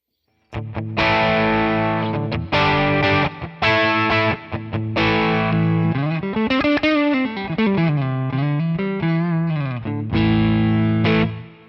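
Electric guitar played through a Tonex Amalgam Two Rock Classic Reverb amp model, loud and distorted with chorus-like shimmer, mixing chopped chords with a bending, sliding lead line in the middle before returning to strummed chords.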